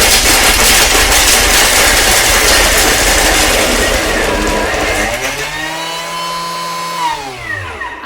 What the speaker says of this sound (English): And we're going to 15 seconds blend mode.